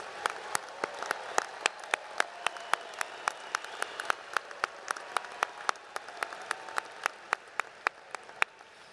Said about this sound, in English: Everyone, a round of applause for all of these graduates.